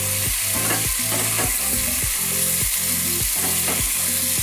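Cauliflower pieces fry in a pan over medium heat with a pinch of sugar, sizzling loudly and steadily while a spoon stirs and scrapes in a regular rhythm about twice a second.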